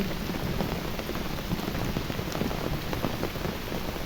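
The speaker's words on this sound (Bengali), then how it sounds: "গ্রামের বৃষ্টি।" Rain falls steadily in a village, a dense, even hiss of drops striking surfaces, loud and close, continuous throughout with no voices.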